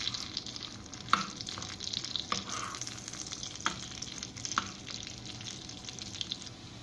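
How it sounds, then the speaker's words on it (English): Garlic and dry red chilies fry in hot butter in a pan, a soft steady crackle with a few sharper spoon or spatula clicks scattered through, fairly quiet and with no talking. "To this I am adding garlic and also dry red chilies."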